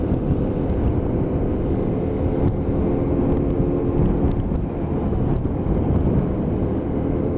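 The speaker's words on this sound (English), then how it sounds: "And that little V-twin just chugging away below me." A Hyosung GT125R 125cc V-twin motorcycle chugs along steadily on damp roads, its low engine drone heard under heavy, constant wind buffeting at the microphone for the whole stretch.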